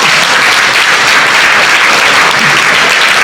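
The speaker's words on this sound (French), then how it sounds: "Ça mérite un petit applaudissement" A large audience at an end-of-season gala evening breaks into loud, dense, sustained applause, a continuous wash of many hands clapping with no pauses.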